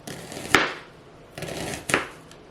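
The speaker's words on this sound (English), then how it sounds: "So rather than chopping my onion, I actually do it in thin half rounds." A knife slices an onion into thin half rounds on a cutting board for shrimp ceviche, giving two distinct crisp cuts about a second apart, each with a short trailing scrape, close and alone.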